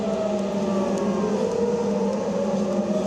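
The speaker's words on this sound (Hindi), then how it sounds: "एक बार फिर से इस सायरन को सुनाता हूं मैं आपको" A steady wailing air raid siren drones continuously, loud and sustained, with a slight rise and fall in pitch.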